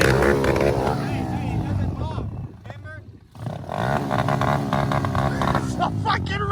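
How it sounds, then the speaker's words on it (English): A dirt bike engine at a motocross race roars loud and close, its pitch wavering as it hangs at high revs, with a brief drop before it surges again while people talk over it. "It's a fucking rev limiter, dude."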